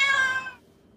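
A single drawn-out meow, close and clear, fading off into quiet background after half a second.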